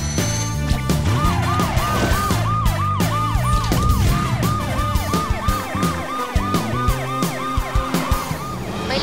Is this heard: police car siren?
yes